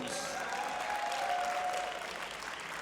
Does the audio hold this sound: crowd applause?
yes